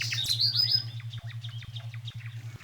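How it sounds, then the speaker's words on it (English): Several birds chirp and tweet in quick, overlapping calls, fairly close, over a steady pulsing low hum. "I hear birds."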